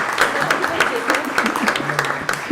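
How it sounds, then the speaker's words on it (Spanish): An audience at a forum on gender parity and political violence gives a loose round of applause for a magistrate, uneven clapping with distinct individual claps standing out as it thins. "le merecemos un aplauso también al magistrado"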